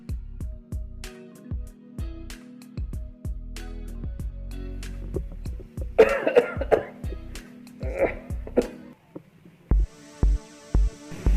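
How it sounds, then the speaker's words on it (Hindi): An elderly man coughs in a long series of sharp, loud, evenly spaced bursts with a throat-clearing rasp, indoors at night, with little else around. "क्या मुसीबत है, बाबा को भी अभी खांसी आनी।"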